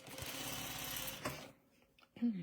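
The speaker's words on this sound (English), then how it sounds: "she's sewing from corner to corner" Industrial sewing machine stitching a quilting block corner to corner, running steadily for just over a second before stopping, followed by quiet and a brief voice.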